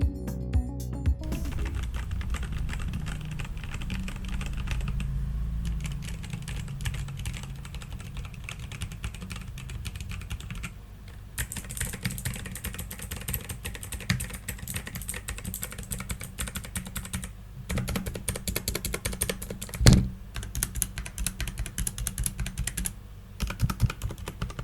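Steady typing on a full-size Logitech G512 mechanical keyboard, close and clear, a continuous patter of key clicks with occasional louder strokes and brief pauses, no talking.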